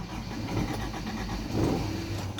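A motorcycle engine with clean spark plugs but high fuel consumption turns over and catches, running as a steady close mechanical rumble with a brief swell in revs, no talking.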